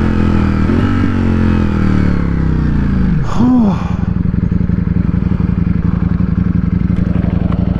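A 2022 Ducati Streetfighter V4S motorcycle engine rumbles loud and close, holding a steady throaty idle, then revving sharply with a quick rise and fall before settling into a rough, pulsing idle.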